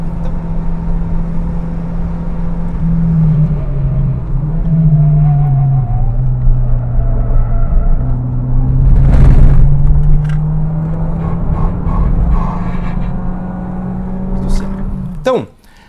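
A fast car on a race track braking hard to slow for the first bend of the Senna S: a loud, steady engine drone close by with a falling pitch as it slows, under continuous talk.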